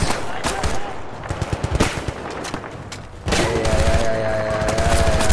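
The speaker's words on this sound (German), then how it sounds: "Aus der Hüfte geschossen." Automatic gunfire fired from the hip in Battlefield: Bad Company 2, loud dense bursts and rapid rattling shots with a break near the middle, then a continuous heavy barrage of battle noise.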